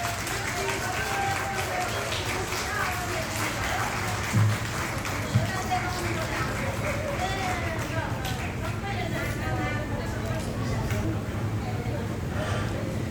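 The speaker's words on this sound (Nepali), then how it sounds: "नखोलिन्जेलसम्म ताली बजाइदिनुहोस् है।" Wedding guests clap and applaud in a steady, dense patter that runs throughout, with a crowd murmuring and a voice talking over it.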